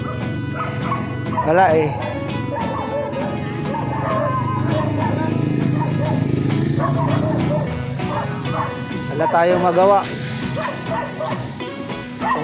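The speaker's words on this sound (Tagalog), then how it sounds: "Itong aso na itong hinayupak na to eh." A street dog barks and yips repeatedly near a balut vendor in Quezon City, sharp rising barks breaking out in bursts between whimpers, while someone talks over it.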